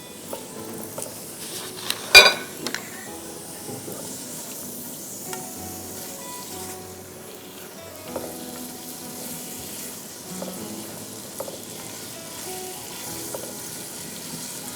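Ingredients frying in a pan toward golden for a chicken curry, a steady close sizzle with occasional clinks and stirring knocks, one louder scrape early on, no speech.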